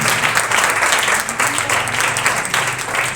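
A church congregation gives loud, dense applause that continues at a steady, close, full level for a few seconds, with slight swells and no break.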